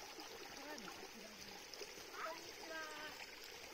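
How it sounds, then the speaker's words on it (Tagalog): A mountain stream on a hiking trail in Japan runs with a steady, close rushing and splashing of water, a continuous bright hiss with small gurgles throughout. "Tubig na galing sa bundok."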